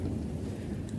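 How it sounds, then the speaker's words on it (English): Low thunder rumbling outside a castle as a storm rolls in, a dense continuous growl mixed with rain hiss, moderately loud and steady throughout with no talking. "You can hear outside the castle that thunder begins to rumble as a storm rolls in."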